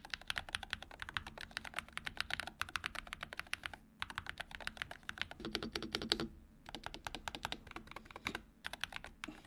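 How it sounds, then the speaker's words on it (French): Typing on an Attack Shark magnetic keyboard with PBT keycaps, a fast, dense stream of crisp close clacks in bursts, with brief pauses between runs. "voici le bruit que les keycaps font pour ce magnifique clavier"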